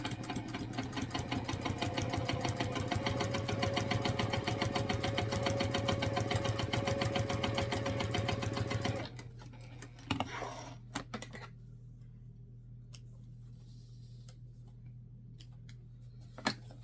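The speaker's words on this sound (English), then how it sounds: "we're going to top stitch this at 1/8 of an inch" A sewing machine top-stitches fabric pieces for a clutch bag at 1/8 inch, whirring in a steady, close mechanical drone for about nine seconds before stopping, leaving a faint hum and a few light clicks.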